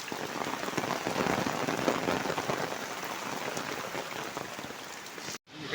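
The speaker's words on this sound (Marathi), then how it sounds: "इकडे गावाला बघा एवढा जोरात पाऊस पडतोय." Heavy monsoon rain pours down on a Konkan village in July, making a dense, steady hiss of drops striking surfaces that continues evenly with no talk and cuts off abruptly near the end.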